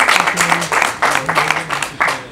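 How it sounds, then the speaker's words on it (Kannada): Audience applause rings out for the Grey Games film team at a 25-day success celebration, a few seconds of clapping with uneven surges and some voices mixed in. "ಒಂದು ಜೋರಾದ ಚಪ್ಪಾಳೆ ತರಬೇಕು ಅಂತ"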